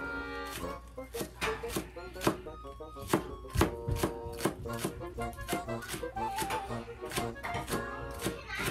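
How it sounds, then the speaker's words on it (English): A knife chops washed scallion on a board in a home kitchen, with rapid, sharp, evenly spaced thunks close by, each stroke crisp and distinct in a steady rhythm. "cut it small and chop"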